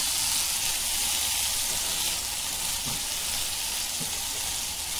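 Cumin and Kashmiri red chili powder sizzle in hot oil while chicken masala is cooked, giving a loud, steady, hissing fry that runs on without a break.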